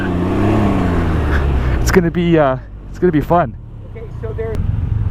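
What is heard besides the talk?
Can-Am Ryker three-wheel motorcycle engine while riding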